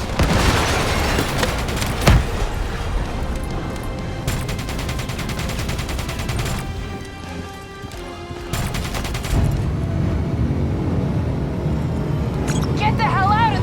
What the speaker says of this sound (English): Mothership's launching missiles!